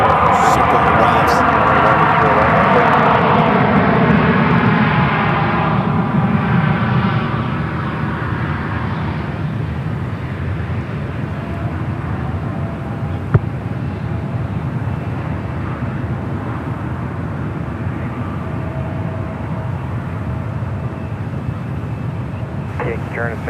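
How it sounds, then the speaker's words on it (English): Korean Air airliner taking off from runway 10 right at San Francisco airport, a loud broad jet engine roar that swells at the start and then eases to a steady rumble, with people talking over it. "So Korean Air is going to be taken off before the A380 circle arrives."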